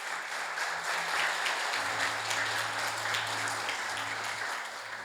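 A church congregation applauds, a continuous dense wash of clapping from many hands at steady volume for several seconds, with a low hum running underneath.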